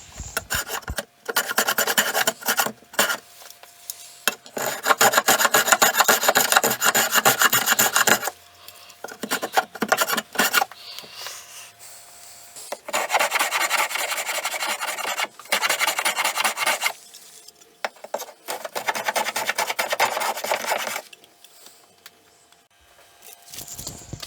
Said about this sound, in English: I'm going to use my block plane at different angles.